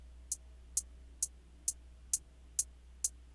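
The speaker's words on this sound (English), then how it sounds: "Then the next thing I did was add these hi-hats." Hi-hats from a 2000s-style guitar R&B beat tick seven times at an even pace, each a short bright crisp hit, clean and isolated over a faint low hum.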